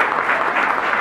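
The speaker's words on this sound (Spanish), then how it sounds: "Fuerte aplauso, por favor" A short burst of steady, dense clapping from an audience, sustained and even throughout.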